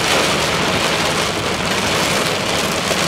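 Heavy rain pours steadily onto a highway crossroad in Alabama during a storm, a dense, loud, unbroken hiss with no voices.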